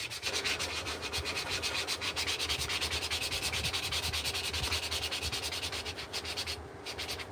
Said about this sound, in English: You love that sound of the sandpaper